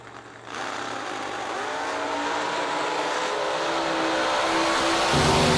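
A supercharged blown coupe launches at a bracket drag race and roars down the strip, its engine note rising steadily and staying loud and unbroken for the whole run.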